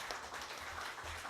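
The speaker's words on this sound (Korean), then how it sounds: "박수하겠습니다." Audience applause at a church training gathering as a pastor is invited up to perform, a brief faint wash of many hands clapping from a distance, steady and unbroken.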